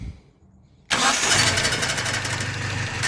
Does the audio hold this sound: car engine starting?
yes